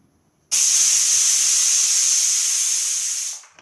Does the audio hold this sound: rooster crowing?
no